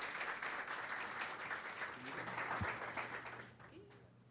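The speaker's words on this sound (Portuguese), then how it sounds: "Muitas palmas para o Rui" Steady applause from a crowd fills the whole stretch, a dense crackle of clapping that fades slightly toward the end.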